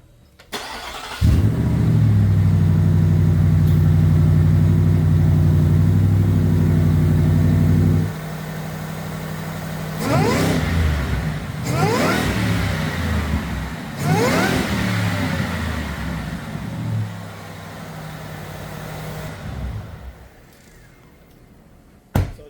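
A Ford Raptor R pickup truck engine with an S&B cold air intake idles loudly and steadily, then revs up in several sharp bursts before settling back to a rumbling idle.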